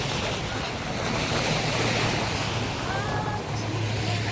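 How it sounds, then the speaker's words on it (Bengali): Wind and rough, choughing sea waves along a Saudi shore, a loud continuous roar of surf with heavy wind buffeting the microphone. "যেহেতু বাইরে বাতাস এবং সাগরের পানি উত্তাল"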